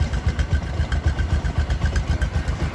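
A Bajaj Discover 125 motorcycle idles nearby, its single-cylinder engine putting out an even, rapid low thumping pulse that stays steady throughout.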